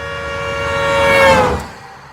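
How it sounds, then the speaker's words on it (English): A loud, whiny vehicle horn honks once, a sustained nasal blare with a slight falling pitch that swells for about a second and a half before cutting off, standing alone without voices. "A loud honk of a whiny horn causes him to quickly look back to the road."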